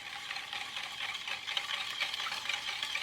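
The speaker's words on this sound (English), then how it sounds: "now it's time to give this a good old mixture" French toast casserole ingredients are mixed in a bowl, giving a soft, continuous sloshing and whisking close by, fairly quiet and without distinct impacts.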